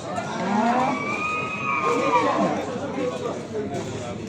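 A calf mooing at a Beyləqan livestock market, one long drawn-out low call up close, with a crowd's chatter and someone talking around it.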